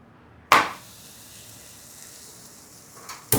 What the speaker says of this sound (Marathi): तव्यावरती पोळी घातलेली आहे.